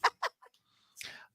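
A rooster or chicken gives a few short clucks, two sharp bursts then a softer one, followed by a brief scratchy squawk, close and alone.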